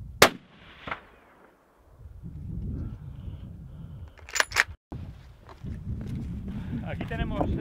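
A sharp, loud hunting rifle shot cracks at the start, followed by a second report and later impulsive bangs, with talking and rustling movement in between.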